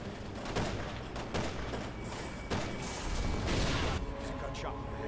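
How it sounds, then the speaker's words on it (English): Gunfire in the Resident Evil 6 video game, with sharp shots and rapid bursts cracking out repeatedly and loudly throughout, over a dense bed of game noise and possible voices. "Gunshot."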